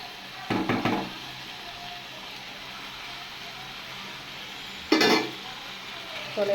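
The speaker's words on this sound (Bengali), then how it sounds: "এই আলুটা এই পর্যায়ে দিয়ে দেবো ভাজা আলুটা" Fried potatoes go into a frying pan for a loitta fish dish, where a low sizzle runs underneath short bursts of scraping and knocking as they are stirred, two clusters close by and a third just starting.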